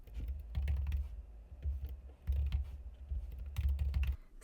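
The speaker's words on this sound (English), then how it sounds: "I am just going to type in all of my kids' names" Kids' names being typed on a computer keyboard: soft, close key taps come in quick bursts with short pauses between, quiet and without talk.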